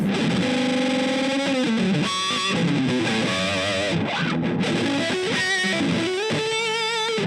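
An electric guitar played through an Earthquaker Devices Hoof Reaper fuzz pedal gives thick, compressed, distorted tones, with sustained notes, bends and short pauses between phrases and no voices.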